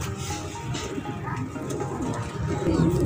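A black-moon pigeon coos softly amid a group of Sialkot fancy pigeons, its low murmuring calls mixed with rustling and someone talking nearby.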